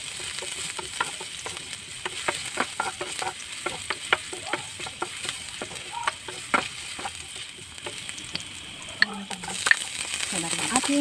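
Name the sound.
ginger and spices sautéing in a pan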